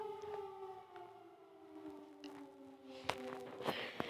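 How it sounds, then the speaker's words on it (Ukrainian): An air raid siren wails in long steady tones across the whole stretch, fairly distant, with a few sharp knocks and clatters near the end. "Тут за сирена, бо у нас була тривога."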